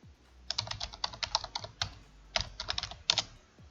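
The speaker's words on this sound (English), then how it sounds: "just type the file name" Keys clatter on a computer keyboard as a file name is typed, quick irregular bursts of close, crisp taps with a short pause midway before a final flurry.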